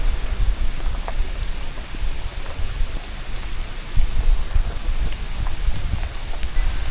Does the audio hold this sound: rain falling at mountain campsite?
yes